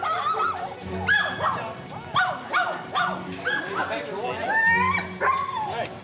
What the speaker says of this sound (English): The trigger itself was not the fact that the dogs were barking